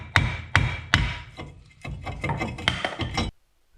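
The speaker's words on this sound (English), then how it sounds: "I'm going to take a hammer and break the rust free" A hammer strikes a rusted brake rotor on a 2002 Ford Taurus, giving several sharp, loud metallic blows and then a quicker series of lighter knocks before stopping.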